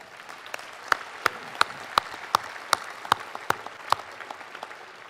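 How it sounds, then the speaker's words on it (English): Applause for awardees at a small business gala, a faint spread of clapping from a dining room audience, punctuated by a steady run of sharp, evenly spaced louder claps standing out near the front. "Can we give them a round of applause?"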